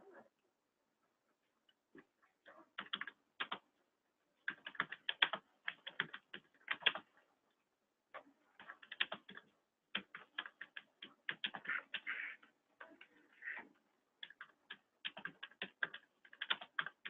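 Typing on a computer keyboard, close and quiet, with irregular bursts of rapid key clicks separated by short pauses in an otherwise silent room.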